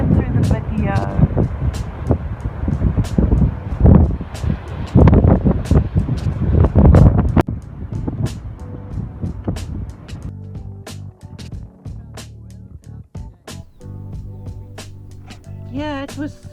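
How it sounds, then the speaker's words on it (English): Strong sea wind buffets the microphone at a caravan park on the coast at Mossel Bay, loud rushing gusts for the first half, easing to a steadier blow with faint voices and tonal sounds near the end. "So this is the sea and the wind today"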